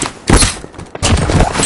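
Two loud bursts of video game gunfire in Call of Duty Warzone / Cold War, close and heavy with a thudding low end, separated by a brief lull.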